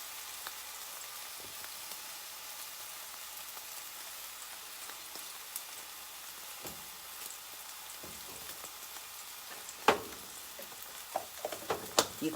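Pork chops cook in a pan with a soft, steady sizzle that stays fairly quiet, then a burst of sharper spits and pops near the end, with no talking.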